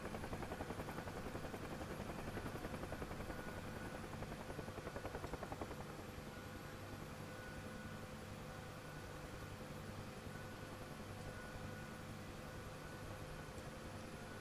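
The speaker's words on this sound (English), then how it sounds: "I have no idea how this helicopter's still flying." A helicopter in the flight simulator DCS World drones steadily, its rotor beating in a constant low chop with an engine whine on top, loud and unbroken from start to finish with no voices.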